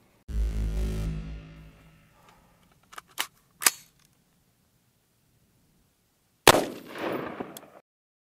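A 10.5 inch AR-15 upper fires .223 Remington 62gr rounds into ballistic gelatin at an outdoor range: one loud sharp report at the start that rings out, a few faint clicks, then a second loud shot near the end.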